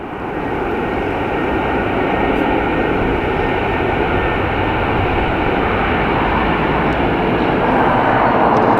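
An Aer Lingus Airbus A330 airliner at Dublin Airport, its jet engines producing a loud, steady broadband roar that holds and swells slightly throughout, with no voices.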